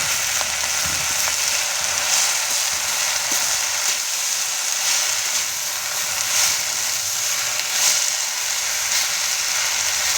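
Jute leaves (pat shak) frying in a pan give a steady, close, even sizzle with occasional light stirring scrapes, no voices.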